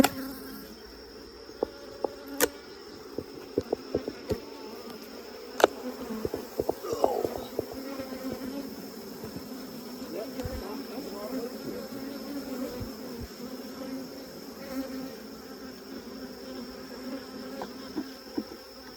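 Honey bees buzz around an opened beehive during an inspection, a steady, moderately faint drone under scattered clicks and knocks from handling the hive, with a few voices murmuring nearby.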